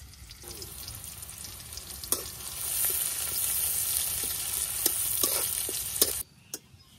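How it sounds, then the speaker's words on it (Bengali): Onion, garlic, whole garam masala and bay leaf frying in hot oil, giving a steady close sizzle with occasional sharp clinks of stirring before it cuts off near the end. "পেঁয়াজ আর রসুন গুলো এখন তেলের মধ্যে দিয়ে দিতেছি"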